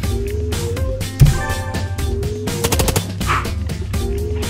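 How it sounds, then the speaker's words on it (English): Gunfire in the Long Gone Days game: several sharp shots crack over a looping musical background, one loud hit standing out early and a rapid burst later. "Now I'm gonna shoot you in the head."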